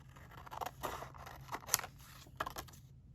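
Small scissors snip through a strip of Canon Selfie photo print paper, several quiet, close cuts in an uneven rhythm against a faint background hum.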